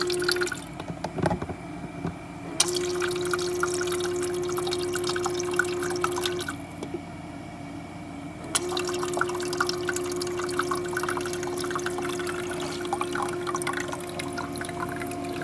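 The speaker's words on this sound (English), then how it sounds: "Just going to fill it with water." Water runs steadily into a Hanabishi Icemaker 240 countertop ice maker, a continuous trickling fill broken by a short pause, with faint mechanical hum and clicks underneath.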